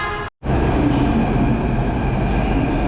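A metro train in Jaipur, India rumbles with a steady, loud, low drone close by, after a very brief drop to near silence at the start and with no talk.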